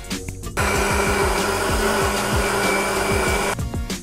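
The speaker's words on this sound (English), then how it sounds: "So in the mixer I have added all the chickpeas along with hung curd and avocado paste" A mixer grinder blends chickpeas with hung curd, avocado paste, olive oil, black pepper and mixed herbs into hummus, a loud, steady motor whir running about three seconds before cutting off.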